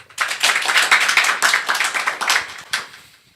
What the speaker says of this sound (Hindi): या आपकी ताली ऐसी बजे कि उनके कानों पे फटका पड़े